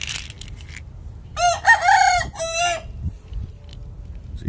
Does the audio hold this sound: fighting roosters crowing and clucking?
yes